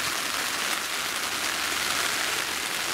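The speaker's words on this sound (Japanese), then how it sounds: "めちゃめちゃ降ってんねんけど、" Heavy rain pours steadily at a campsite around a Coleman Cimmaron 8-person tent, a dense, continuous hiss close by with no talking.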